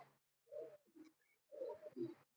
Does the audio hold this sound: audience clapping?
no